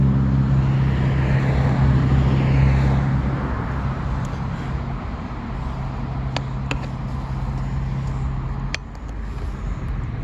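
Steady road traffic rolls past a military cemetery at Fort Ethan Allen in Colchester, Vermont, a continuous broadband rumble that is louder in the first few seconds and then settles to a constant wash, with no talking.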